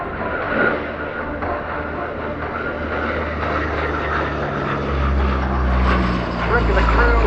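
A Breguet Atlantique 2 turboprop maritime patrol aircraft flying at the RIAT 2025 airshow, a loud droning propeller and engine roar that swells toward the end, heard beneath a commentator talking over the public address.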